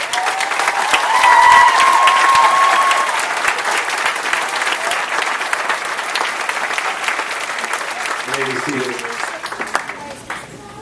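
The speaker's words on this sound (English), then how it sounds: "Let's give these folks a round of applause." A large crowd at a college graduation ceremony applauds in a sustained, dense clatter of clapping that gradually thins out, with a voice speaking briefly near the end.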